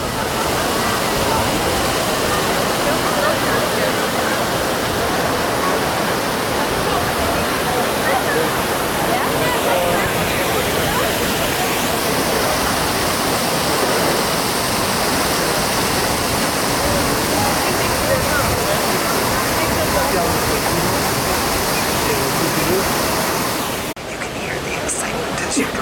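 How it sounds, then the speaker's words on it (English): Water gushes continuously from the 24 spouts of a fountain in Rome, a loud, dense rushing splash that stays steady throughout before cutting off near the end. "Water fishes from 24 spouts."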